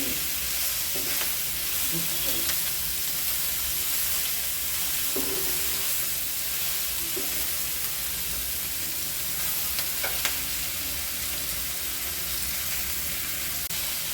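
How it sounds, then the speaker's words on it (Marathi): Steady sizzling and crackling as spices and ingredients for matar paneer dry-roast in a hot pan, with occasional stirring scrapes, continuous and fairly soft throughout. "तर हे आपण सगळं भाजून घेऊ"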